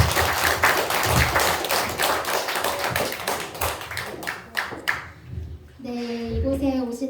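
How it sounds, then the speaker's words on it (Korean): Church congregation at an afternoon worship service claps loudly in dense, rhythmic applause to welcome performers for a celebration show, fading out before a voice starts speaking near the end. "우리 큰 박수로 환영합시다."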